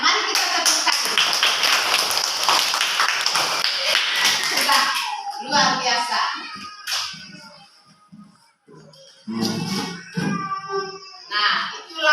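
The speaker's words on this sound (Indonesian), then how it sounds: "mari kita tepuk tangan" A classroom of pupils claps together in a burst of dense hand clapping that fades into scattered claps, followed by a teacher speaking and a few more isolated claps near the end.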